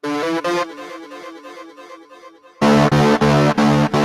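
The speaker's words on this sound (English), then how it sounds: "a perfect fifth through a distortion effect sounds awesome" A distorted synth bass plays a gritty perfect-fifth power-chord interval in short repeated stabs, fading, then returning louder and more saturated.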